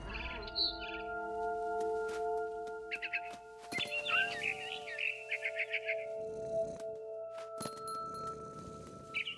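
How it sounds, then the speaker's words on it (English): A barn swallow chirping in the video game What Remains of Edith Finch, small bursts of bird calls over sustained musical tones and soft ambient noise. "Then I heard chirping outside my window. It was a barn swallow going back to her nest."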